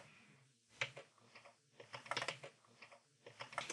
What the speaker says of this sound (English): we have to type in the site name